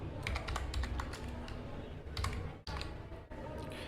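Computer keyboard keys typed in quick, uneven bursts while entering JavaScript code, close and fairly loud, with brief pauses between runs of clicks.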